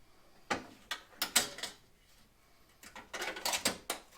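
Faint, close mechanical clicks and rattles from a ratchet loosening bolts inside a Jeep Cherokee XJ door during a power window repair, with a few short bursts separated by a quiet pause.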